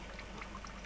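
Water dripping and trickling from a tar kiln condenser pipe, a soft continuous liquid patter with small splashes, faint and steady.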